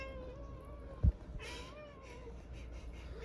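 A cat indoors at a house gives a couple of short, close meows, a tonal call early on and another a moment later, heard alone with a small thump and little else around it.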